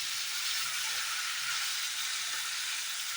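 Elephant yam pieces frying in oil until crisp, an even, steady sizzle that carries close and continuous with no pauses or talk.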